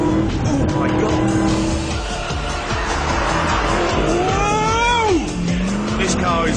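Supercharged 500 bhp LS2-engined Vauxhall Monaro VXR500 revs hard in third, shifts to fourth and keeps accelerating, with loud engine howl and tyre squeal as the car slides sideways, heard from inside under excited talk.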